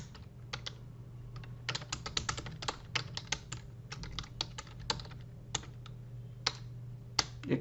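Keystrokes on a computer keyboard as a line of a poem is typed out, irregular bursts of close, crisp taps with short pauses, over a steady low hum and no talking.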